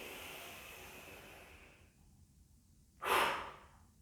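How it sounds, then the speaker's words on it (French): A single forceful exhale through the mouth during a calm seated chair relaxation session, one short breathy burst near the end after a fading softer breath, close and clear with no talking. "on va expirer par la bouche, d'un coup"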